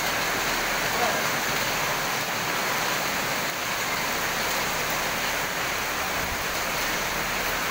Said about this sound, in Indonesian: Tuh lihat hujan di luar.